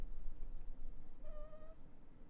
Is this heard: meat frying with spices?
no